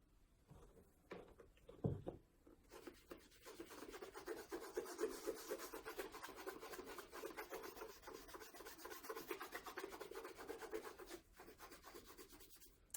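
Soft cloth wiping excess cream off a Cole Haan leather shoe, a quiet, close rubbing swish that builds after a couple of seconds into steady back-and-forth strokes, then eases off near the end.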